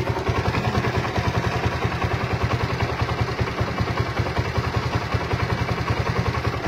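Honda CS1 motorcycle engine, in need of an oil change, idling up close with a steady rapid thumping pulse and a mechanical clatter, loud and continuous with no speech.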